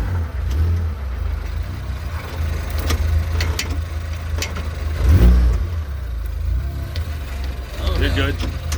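Mazda Miata with a swapped Ford EcoBoost engine, running while reversing, a steady low engine drone with a brief rev swell midway, with people talking over it.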